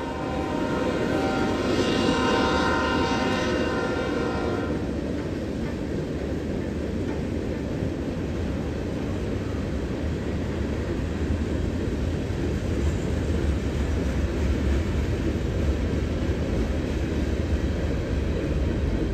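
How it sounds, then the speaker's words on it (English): Norfolk Southern manifest freight train led by NS 8145 with an SD70ACE second in line, passing close by with a steady loud rumble and engine drone, harmonic engine tones stronger in the first few seconds before settling into continuous wheel and car noise. "I see NS8145 in my mirror leading the way with a Norfolk Southern SD70 Ace number 1038 in second, taking a manifest train to John Sevier Yard"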